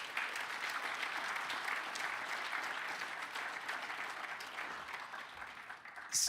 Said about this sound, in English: big round of applause to you guys for all of your support for our students